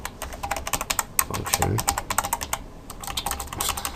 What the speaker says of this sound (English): I said function, so I started typing it.